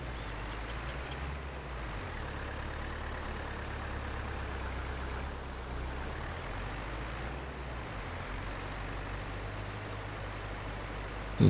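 A tractor engine in a farming video game drones at a low, steady idle-like rumble that barely changes over several seconds, loud and continuous with no talk.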